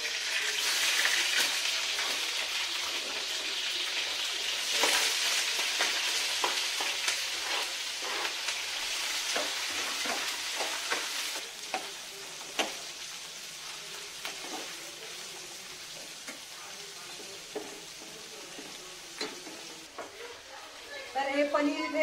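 Paneer and vegetables frying in a pan for paneer do pyaza, with a continuous bright sizzle and occasional stirring clatter, loudest at the start and easing slightly as cooking goes on.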